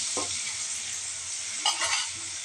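Prepared spice paste hitting hot oil with whole garam masala in a pan, a steady bright sizzle with a few scraping stirs near the end, no voices.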